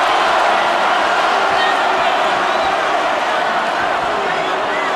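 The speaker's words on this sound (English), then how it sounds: "The crowd is now chanting for Tarver." Boxing arena crowd at the Roy Jones Jr. versus Antonio Tarver third fight, a loud, dense, steady roar of voices chanting for Tarver, with commentary likely mixed in.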